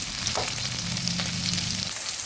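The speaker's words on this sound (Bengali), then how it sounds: "নুন হলুদ শুকনো লঙ্কা পাউডার এবং সামান্য একটু সর্ষের তেল দিয়ে মেখে মাছগুলো ভাজতে বসিয়ে দিয়েছি" Silver carp pieces rubbed with salt, turmeric, red chili powder and a little mustard oil fry in a pan with a dense, constant close sizzle and faint stirring touches, no voices.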